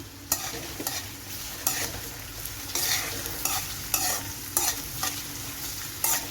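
Green chillies frying with ginger and garlic in a pan for a fish pickle, a steady sizzle broken by repeated scraping stirs of a spoon every second or so, close and fairly loud with no talking.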